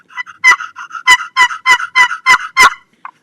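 A Todd Rupert Roost and Peace turkey call plays a run of about eight loud, raspy, evenly spaced yelps up close. A softer final note follows, with no talking.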